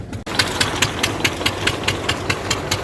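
A tractor engine powering a peanut harvesting machine chugs loudly and steadily, with regular knocking pulses several times a second over a constant mechanical rumble.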